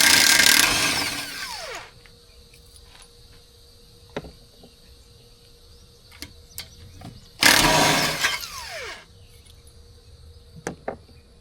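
Impact wrench bursts loosening Gorilla lug nuts on Method wheels during a five-tire rotation: two loud buzzing runs of about two seconds each, separated by scattered clicks and clanks of the sockets and nuts, with no talking.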